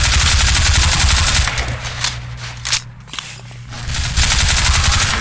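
Rapid automatic gunfire from the video game Half-Life 2 blasts loudly in dense bursts, pausing briefly in the middle before resuming, with scraping and footstep-like clatter mixed in.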